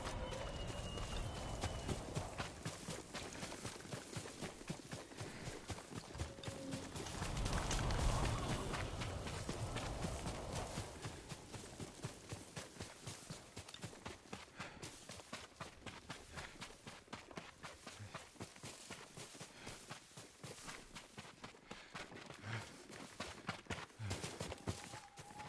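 Horse hooves clip-clop in a quick, steady rhythm throughout in the video game Ghost of Tsushima, faint and continuous with no talking.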